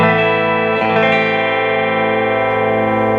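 An electric guitar on the bridge pickup rings out through a modded Monoprice amp set to 5 on most controls, 3 on reverb and 2 on gain, producing a sustained, lightly overdriven chord with reverb, steady and loud.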